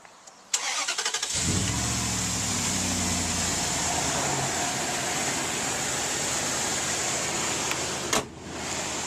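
A rig fitted with a cold air intake starts up with a quick crank, then its engine settles into a steady, loud idle that drones on close by, with no voices.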